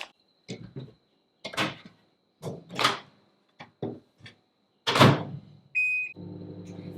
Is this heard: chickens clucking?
no